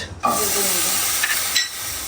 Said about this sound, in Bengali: মরিচ আর রসুন একটু তেল দিলাম, পেঁয়াজ,